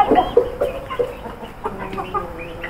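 Backyard chickens at a pet house clucking in short, irregular bursts as they wander in and out of their coop, a fairly close and moderately loud flock with no talking.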